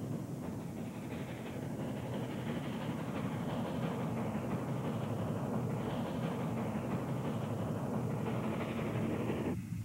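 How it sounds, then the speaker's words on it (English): Platte Valley Express, an eastbound mixed freight hauled by steam, rumbles past with a steady, continuous roar and rolling wheel noise that stays loud and even throughout, with no voices. "Here we see the Platte Valley Express, a mixed freight eastbound"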